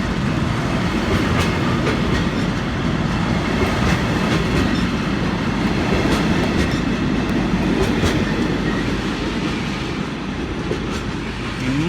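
Heavy freight train hauling about 1,200 tons of china clay rolls past at Exeter St David's, a loud continuous rumble of wagons with rhythmic clickety-clack from the wheels, steady throughout with no talking.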